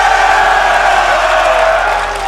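Live arena crowd at the BLAST R6 Major Atlanta grand final, a Rainbow Six esports event, giving off a steady, dense roar of cheering that holds loud throughout and eases slightly at the end.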